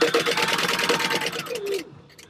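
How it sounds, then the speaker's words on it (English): A sewing machine base stitching D-ring connectors onto fabric at a long 4-stitch length, running as a steady, loud rapid whir that slows and stops near the end, with no talk over it. "we're just going to base stitch those D-ring connectors on."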